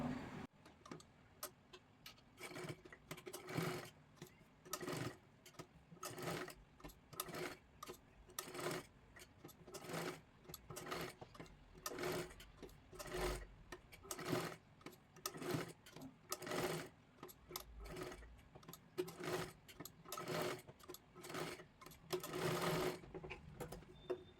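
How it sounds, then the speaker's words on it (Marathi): A sewing machine stitching a princess blouse runs in repeated bursts of rapid rhythmic clatter, each lasting a second or so with brief pauses between, close and steady throughout. "आता इथे आपल्याला शिलाई मारून घ्यायची आहे"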